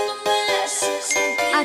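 A bright notification bell jingle rings out alone, a short run of chiming tinkles layered into a sparkling ascending sequence, loud and clean with no voices.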